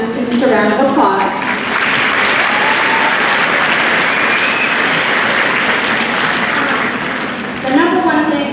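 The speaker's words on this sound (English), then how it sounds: "So let's give them the students a round of applause." A school audience at a spring awards assembly applauds the students in a loud, sustained wash of clapping lasting several seconds, with a voice speaking briefly at the start and again at the end.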